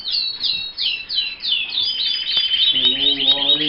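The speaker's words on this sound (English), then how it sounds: "That's an old Canary" Canaries chirp and trill in an aviary, a steady run of high, bright calls with faint lower tonal notes joining near the end.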